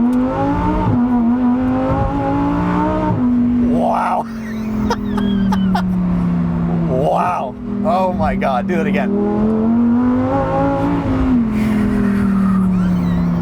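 A Lamborghini Huracan STO's V10 engine revs hard and climbs through repeated surges, with its tires struggling for traction at moments, loud and close, while a driver exclaims over it.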